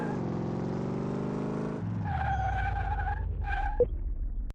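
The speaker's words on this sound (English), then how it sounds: "Handles pretty good. Even with a park brake slide." A Tempest Magnum car slides under the park brake, its engine droning steadily before the tires break into a loud, wavering squeal that ends with a short chirp.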